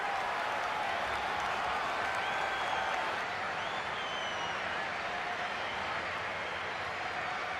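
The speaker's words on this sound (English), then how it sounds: "as the players applaud the fans who've been backing them today" Stadium crowd in the FC26 football game applauding steadily after a trophy win, a dense wash of clapping and cheering that stays loud and unbroken throughout with no commentary.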